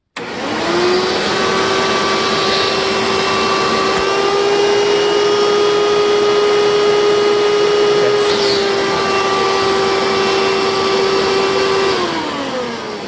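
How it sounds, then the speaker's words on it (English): A Shark NV650W or Hoover Elite vacuum cleaner runs steadily with its accessory hose fitted for a suction test, giving a loud, constant whine with a sustained tone that starts and stops cleanly, with no talking. "Now let's do a suction test with the accessory hose in."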